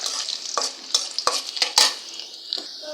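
Greens and oil stir-fried until browned in a pan, with a sizzling hiss broken by irregular spatula scrapes and sharp clinks against the pan, close and without talk.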